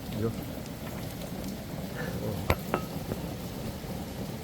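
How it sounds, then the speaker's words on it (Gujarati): Heavy rain patters steadily on a farm, with a few sharp drips and clinks ringing out on a hard surface. "પાછો વરસાદ ચાલુ થઈ ગયો છે જોરદાર જોરદાર વરસાદ ચાલુ થઈ ગયો"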